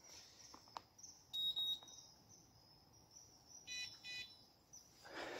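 A carp fishing bite alarm on a rod lets out a couple of short bursts of electronic beeping, fairly faint outdoors over a steady bed of insect chirring.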